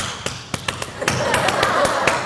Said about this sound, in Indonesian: Itu tepuk pramuka itu bos.